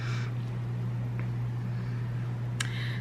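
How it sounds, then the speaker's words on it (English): An air conditioner runs steadily nearby, giving a constant low hum and airy whoosh with a couple of faint clicks, and no voices. "my air conditioner came on"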